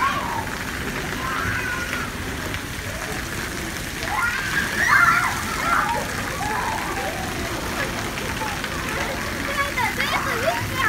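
Children splash and play in water at a mini water park, with continuous splashing and spraying and children's voices talking and calling over it.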